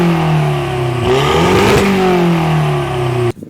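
A VW Polo 6N2 fitted with 4-inch slash-cut rear exhaust tips revs hard and close, its note climbing and falling through one sustained burst before cutting off abruptly.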